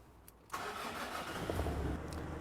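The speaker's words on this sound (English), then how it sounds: "now we're going to turn the engine on" A car engine cranks and fires at about half a second, then settles into a steady, fairly loud idle for the remaining couple of seconds, with no talking.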